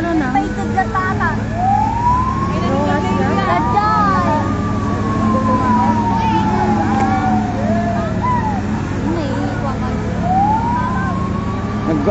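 A wailing fire truck siren at a fire in Quezon sweeps up and down repeatedly, loud and fairly close, over steady traffic rumble with people talking in the background.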